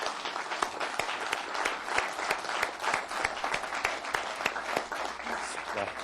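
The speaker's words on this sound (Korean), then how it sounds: "우리 박수나 한번 치고 넘어갈까요?" A large audience of prosecutors claps steadily through a formal presidential dialogue session, a dense, sustained roar of many hands with no break, loud and close.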